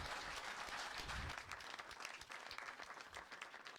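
An audience at an Eid celebration program applauds, a dense wash of many hands clapping that holds steady and then eases slightly, heard faintly and at a distance.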